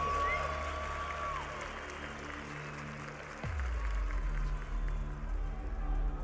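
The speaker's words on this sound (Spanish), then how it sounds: "quiero que me den un fuerte aplauso, mi gente, por favor" Crowd applause and cheering at a freestyle rap battle, the Red Bull Batalla national final in Chile, a sustained wash of clapping and crowd noise with a deep low rumble entering midway.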